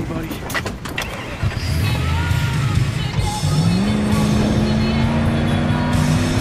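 A car engine in Battlefield 4 revving up and accelerating away, its pitch climbing steadily under a loud, busy mix of shouted voices and other game noise.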